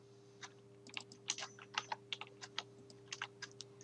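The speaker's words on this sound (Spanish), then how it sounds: "O puedo usar el atajo de teclado, control C para copiar," Keys click on a computer keyboard during keyboard shortcuts in Microsoft Access, a quick irregular run of close, crisp taps over a faint steady hum.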